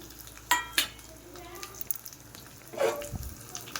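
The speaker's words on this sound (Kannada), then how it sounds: "ಚೆನ್ನಾಗಿ ಗೋಲ್ಡನ್ ಬರೋ ಥರ ಫ್ರೈ ಮಾಡ್ಕೋಬೇಕು" Onions and curry leaves fry in hot oil for a sambar, a soft steady sizzle with a couple of sharp utensil clinks and a stirring scrape close by.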